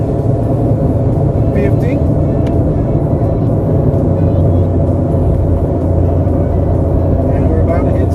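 A Ford F-150 pickup truck accelerates, its engine droning loud and steady from inside the cab, with someone talking over the noise.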